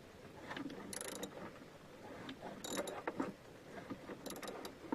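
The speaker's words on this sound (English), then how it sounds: "I'm going to take and tighten that bolt back up so that it holds your battery into place" A ratchet tightens the hold-down bolt on a car battery during a battery change, giving faint, quick bursts of clicking against a low mechanical background.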